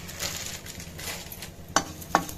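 Cumin seeds sizzle in hot oil, a soft continuous crackle close by, punctuated by two sharp clicks of utensil against the pan near the end.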